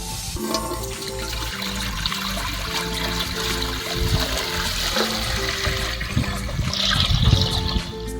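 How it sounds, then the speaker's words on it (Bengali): Water runs steadily into a cooking pot for rice in a village kitchen, a continuous close splashing and trickling stream that swells near the end. "ভাত করার জন্য ডেচকিতে জল দিয়ে দিচ্ছি"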